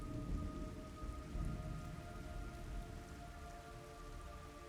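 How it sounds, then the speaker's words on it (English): Heavy rain falls in a stealth action video game set in jungle terrain, a dense steady hiss and patter with low rumbling, loud and continuous, with no voices. "It's raining blood."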